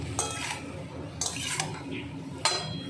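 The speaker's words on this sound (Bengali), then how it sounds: "দিয়ে দিলাম, ভালো করে মিশিয়ে নিচ্ছি।" A utensil stirs and mixes vegetables in a cooking pan, three separate scraping strokes with light metallic clinks, fairly quiet against a calm kitchen background.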